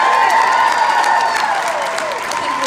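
Crowd at a Q&A event cheering and applauding together, a loud, continuous wash of clapping and whoops that holds steady throughout.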